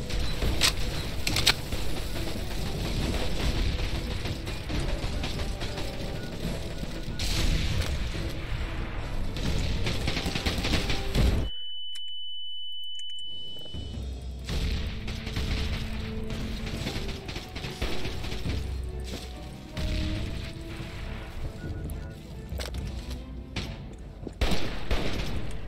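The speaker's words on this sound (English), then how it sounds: "Oh, I'm taking rocket fire!" Rocket fire and explosions in a Fallout role-play game session, loud sustained blasts and rumbling booms filling the scene, broken by a short quiet gap with a thin tone before the barrage resumes.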